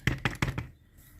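Three or four crisp crunching bites of sauerkraut in quick succession, close and fairly loud, then quiet room tone.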